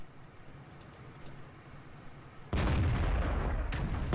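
A World of Tanks tank battle with the AMX CDC, where a low rumble gives way to a sudden loud, booming cannon blast that keeps roaring to the end, with no voices.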